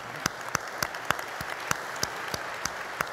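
An audience claps in a steady, evenly spaced rhythm at a HeForShe anniversary event, the sharp beats carrying clearly over a dense wash of applause at moderate distance.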